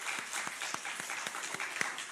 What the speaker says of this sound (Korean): 함께 박수로 축하해 주시기 바랍니다